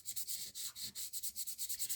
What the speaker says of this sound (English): let's just give it the royal treatment with the sandpaper